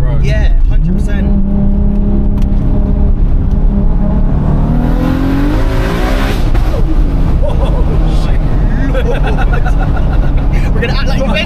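A 1000bhp Toyota Supra accelerating hard, the engine note climbing loudly through the revs from inside the car, with shouting and excited voices over the roar.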